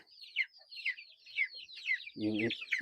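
Native chickens cluck in a rapid series of short, close calls, and a louder, deeper call bursts in near the end.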